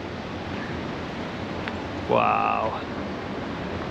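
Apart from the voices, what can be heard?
waterfall in a ravine at Saltó del Usero, Murcia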